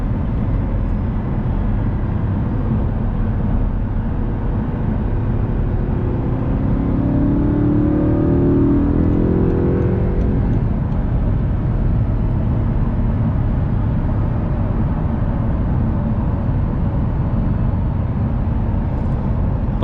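A stock 2009 Audi R8 with a 4.2L V8 drones steadily from inside the cabin while cruising, a loud continuous engine roar with a brief rising rev midway and no talk.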